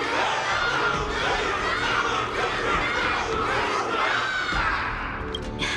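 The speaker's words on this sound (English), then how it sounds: "Everyone's cheering for you, Luca." A large crowd cheering and shouting in a battle arena during the Luminary Wardance event of the video game Honkai Star Rail, a loud, dense and continuous roar of many voices throughout.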